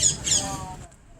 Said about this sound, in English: Oh, I saw that green bird.